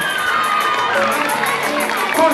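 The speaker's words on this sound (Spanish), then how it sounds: "Fuerte el aplauso para ella." A school audience at a school anniversary celebration cheers and claps, a dense crowd roar with children's shouts, steady and loud throughout, with no separate talking.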